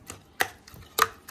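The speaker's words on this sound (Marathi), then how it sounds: "तर ती जरा अशी थोडी चमच्याने बारीक करून घ्यायची अशी" Spoon mashing cooked wild vegetable stalks in a pot, heard as a few sharp, near taps and scrapes spaced irregularly with quiet gaps between them.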